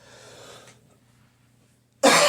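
A single sharp cough, close and loud, bursting out at the end after faint background hum and a trailing bit of room sound on a podcast recording.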